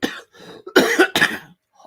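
A person coughs several times in quick, harsh bursts, close and clear, in a podcast setting.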